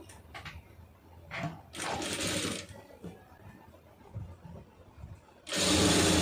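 A sewing machine stitches piping onto a chudithar lining in two short, fairly quiet bursts of whirring, separated by soft handling and fabric sounds. The second burst is louder and closer.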